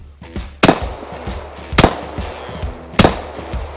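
Three loud, sharp gunshots from a handgun fitted with a CAA micro conversion kit, spaced about a second apart outdoors, each with a short echoing tail and faint handling noise between.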